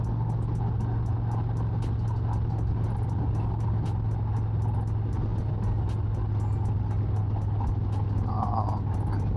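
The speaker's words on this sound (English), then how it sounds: "Traffic has picked up quite a bit." Steady road traffic around Ocala, Florida, heard from a motorcycle on the highway, with a constant low engine drone and rumble of passing cars and trucks and no pauses, loud and continuous throughout.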